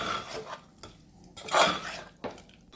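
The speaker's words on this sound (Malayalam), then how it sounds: "കുക്കർ ഒന്ന് തുറന്ന് നോക്കാം, കറി എങ്ങനെ ഉണ്ടെന്ന് നോക്കാം." A pressure cooker of chicken curry being opened: a few metallic clanks and scraping rubs of the lid against the pot, close and moderately loud, with short quiet gaps between.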